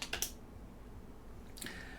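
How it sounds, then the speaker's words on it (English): Keystrokes on a computer keyboard at a desk: a quick cluster of three soft clicks, a pause, then another brief click, all quiet and close with no talking. "I'm typing var."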